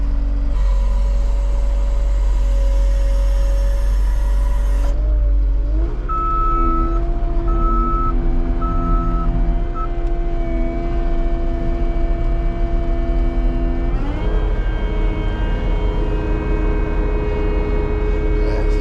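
New Holland C330 compact track loader fitted with a Rut brush cutter, its diesel engine idling loud and close, then throttling up with a steady hum and rising pitch, intermittent beeps in the middle.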